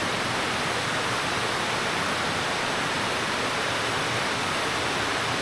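A waterfall inside a cave system in Thailand roars as a constant, loud, even rush of water with no breaks, heard alone without voices.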